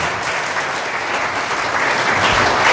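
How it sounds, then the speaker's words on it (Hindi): Steady applause from an audience at a farewell event for hardware, software and EMMC students, dense and even throughout, with no talking over it. "जोरदार ताली बजा दें इंदो भाई"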